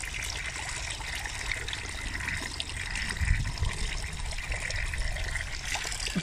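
Mineral water runs steadily from a public fountain near a park in Bad Cannstatt, a constant close trickle and splash with a low thump partway through and no talking.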